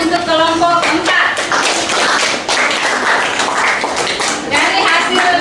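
An audience claps for a presenting student group in a classroom discussion session, a dense, steady patter of many hands that fills the clip, with a voice heard briefly at the start.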